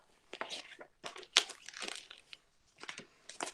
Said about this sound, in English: Crunch, crunch, crunch. His feet sunk in the snow.